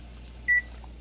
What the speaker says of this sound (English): Now set the timer for 12 minutes.